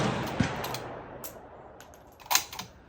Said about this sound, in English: we're gonna go ahead and hold level and take that shot